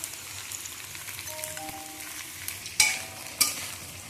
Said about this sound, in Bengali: রসুন বাটা, আদা বাটা, টমেটো কুচি সব একসাথে দিয়ে নেড়ে চেড়ে ভালো করে মশলাটা কষিয়ে নিচ্ছি